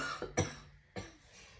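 Two close, sharp coughs from a woman, the first stronger and the second following about half a second later, in a quiet indoor room.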